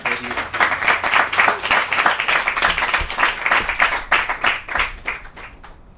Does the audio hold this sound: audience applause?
yes